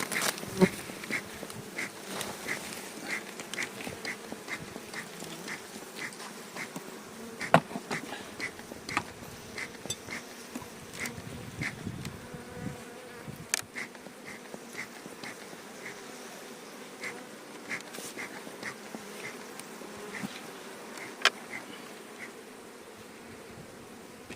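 Honeybees buzzing around an open hive during an inspection, a continuous close droning hum with individual bees passing near, plus scattered light clicks and handling noises.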